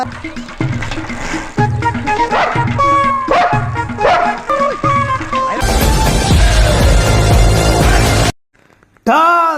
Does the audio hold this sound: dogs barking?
yes